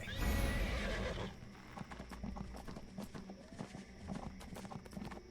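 A horned horse mount in the video game Neverwinter whinnies loudly at first, then its hooves clip-clop in a quick, uneven rhythm, close and clear with game ambience underneath.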